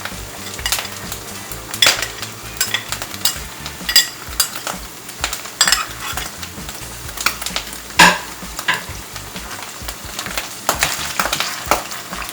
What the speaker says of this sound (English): now this here, we're gonna add the garlic